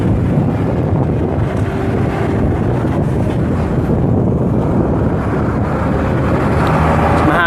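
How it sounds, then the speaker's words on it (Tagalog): Strong wind blows outdoors, buffeting the microphone with a steady, rough roar that fills the whole stretch and covers any other sound. "Malakas yung hangin."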